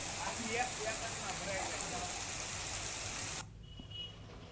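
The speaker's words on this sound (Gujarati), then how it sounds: "ગીર જંગલ વિસ્તારમાં વરસાદ વરસી રહ્યો છે" Rain falls over the Gir forest area of Gujarat in a steady, dense hiss that carries on evenly before cutting off abruptly near the end, leaving a much quieter stretch.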